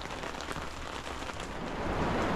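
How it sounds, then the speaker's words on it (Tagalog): Heavy rain pouring down in a dense, constant roar, steady throughout with no voices. "malakas ang ulan"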